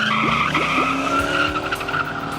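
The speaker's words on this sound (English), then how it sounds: "It still does a one-wheel peel" An El Camino with a Gearstar 4L60E transmission and Yank converter does a one-wheel peel, tires squealing loudly over a revving engine with a few rising gear shifts, close and sustained.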